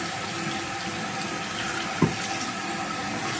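Hot water runs steadily from a tap in a newly built country-house bathroom, a continuous even hiss with one brief knock partway through, and no voices.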